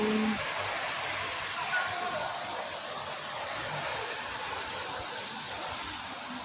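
An air conditioner inside a hut in a cloud forest runs with a steady, even broadband hiss and whoosh that holds throughout, close and moderately loud, with a faint click near the end.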